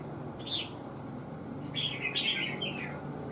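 A red-whiskered bulbul gives a short chirp, then a quick run of bright, clear chirps close by, over a low background hum.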